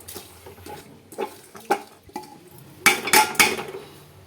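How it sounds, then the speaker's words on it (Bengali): Dry lentils tipped from a container into a pressure cooker already holding water, giving scattered clinks and knocks of metal and a rattling cluster of taps near the end, close and fairly quiet. "এর মধ্যে আমি ডালগুলো ঢেলে দিচ্ছি"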